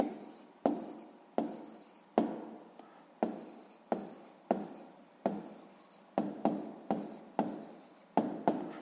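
Pen writing an answer to a sixth-grade math exercise: a dozen or so short scratchy strokes, each starting with a tap, in an uneven steady rhythm, close and quiet, no speech.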